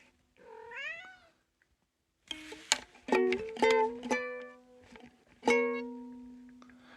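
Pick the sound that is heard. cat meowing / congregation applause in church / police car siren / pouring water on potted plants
cat meowing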